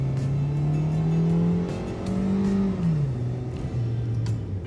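Suzuki Ertiga with automatic transmission kicking down from about 40, its engine droning steadily and loudly with rising and falling pitch as revs climb and shift, heard from inside the car with no talk.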